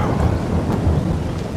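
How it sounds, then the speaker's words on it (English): Rain and thunder in the Farming Simulator 22 video game on a Missouri farm, a low continuous rumble of thunder under steady hissing rainfall, close and even throughout with no speech. "While we're waiting for the rain to stop"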